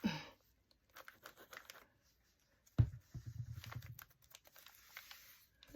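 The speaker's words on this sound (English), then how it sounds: "It's fun to use the brown paper in journals. It's nice and crinkly. It sounds so good." Crinkly brown paper being handled and pressed into a vintage shabby-style junk journal, giving short bursts of dry rustling and crackling with quiet gaps, plus one sharper crunch midway, close and fairly soft, with no talking.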